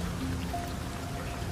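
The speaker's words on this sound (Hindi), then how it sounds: "अरुण, क्या कर रहे हो बाहर इतनी बारिश में?" Heavy rain falls outside, a dense, steady hiss of drops that fills the whole stretch at an even, close level with no voices.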